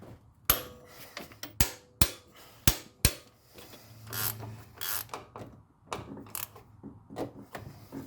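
Ratchet tightening bolts on a 2004 Honda CR-V during a lift kit install, a series of close, sharp clicking strokes and rasping ratchet sweeps in uneven bursts, no talking.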